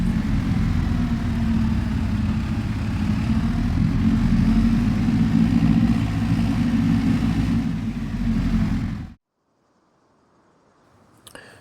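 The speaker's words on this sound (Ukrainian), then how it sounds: "Ну що, усе, трактор заглушив." A tractor engine in the video game Farming Simulator 25 runs at a steady low rumble for about nine seconds, then cuts off abruptly into near silence, followed by a brief faint click.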